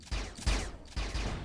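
Gunfire in the video game Midair: dense, booming volleys of shots in quick succession, loud and close, forming a continuous rumbling fusillade.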